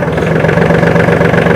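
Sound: Swaraj Target 630 tractor engine running after shifting into first gear

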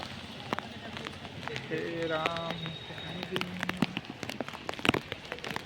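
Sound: heavy rain in Jamnagar

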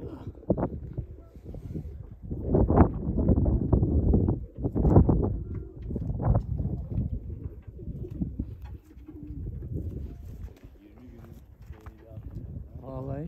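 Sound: tumbler pigeons flying and cooing

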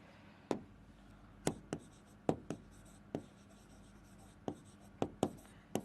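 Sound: writing out a chemistry note

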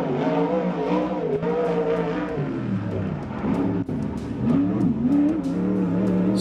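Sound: 360 sprint car racing on track

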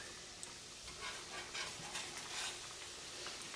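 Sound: Italian Christmas cookie dough frying in olive oil

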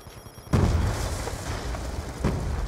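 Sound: grenade explosion in video game Black Ops 2

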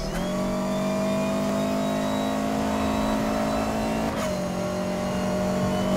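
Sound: car accelerating with aero body, Need For Speed Most Wanted video game

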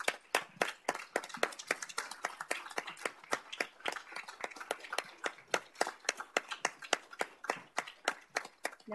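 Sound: applause

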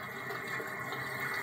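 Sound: toilet flushing

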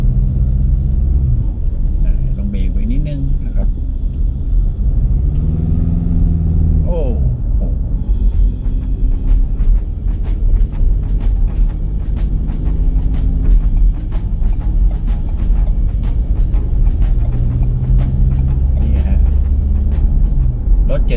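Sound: Ford Everest SUV engine accelerating from a start

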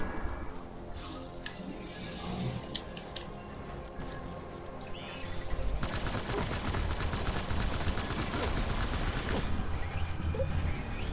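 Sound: gunfire in the video game Death Stranding

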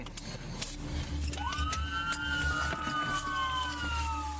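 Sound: police car siren switched on during a chase

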